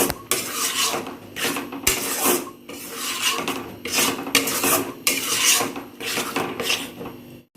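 Masala spice paste with green peas being stirred and fried in a pan, repeated rasping scrapes of a spatula against the pan in an uneven rhythm, close and fairly loud, no talking.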